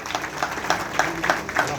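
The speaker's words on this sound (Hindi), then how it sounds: "जोरदार तालियां बजती रहनी चाहिए।" An audience claps at a ceremony handing safety kits to sanitation workers, uneven bursts of applause over a brief stretch, with a voice audible underneath.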